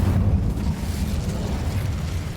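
A fire spell bursting in Hogwarts Legacy, a deep rumbling roar of flame that holds steady and loud throughout with no pause or voice over it.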